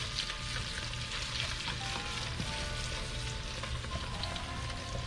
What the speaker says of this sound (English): We're gonna get it to where it's browned up.